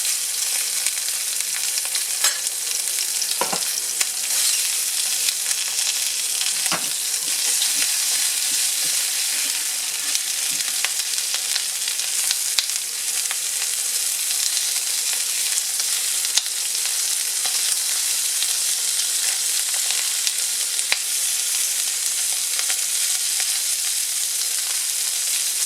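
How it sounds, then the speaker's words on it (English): Chicken pieces browning skin-side in a hot pan for Spanish rice, giving a dense, steady crackling sizzle with occasional louder pops, close and without speech throughout. "So we're taking it out and just kind of brown it a little."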